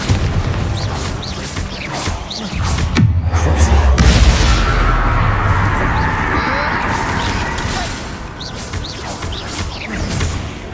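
Bombarda blasting spell exploding in the Hogwarts Legacy video game, a loud booming blast with a deep rumble near the three-second mark, set among ongoing game effects and clatter.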